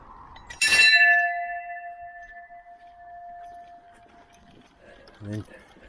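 A single bell on a golf course strikes sharply and rings on with a long, clear, slowly fading tone outdoors, with faint background noise and a brief thump near the end.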